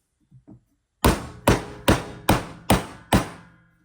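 Two soft knocks, then six sharp hammer taps in an even, steady rhythm, each ringing briefly before fading. Close and clear, with no talking.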